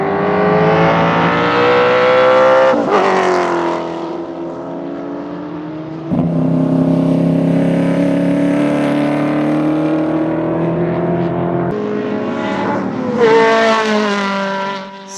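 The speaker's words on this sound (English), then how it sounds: "Next was Martin's VS Commodore, followed by David Walden's Rover SD1" Improved Production race cars, including a VS Commodore and a Rover SD1, race at Baskerville with loud engines that rise and fall in pitch as they rev, shift and pass close by, with no talk.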